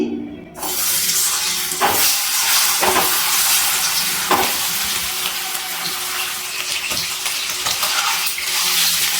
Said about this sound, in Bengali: এবার ডিমটা ভেজে নিচ্ছি।